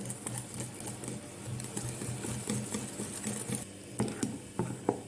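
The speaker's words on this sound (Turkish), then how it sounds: "güzelce karıştırıyorum yeniden" Gözleme crepe batter with baking powder is stirred in a bowl, making quick, close, repetitive tapping and scraping of utensil against bowl at a brisk, uneven rhythm.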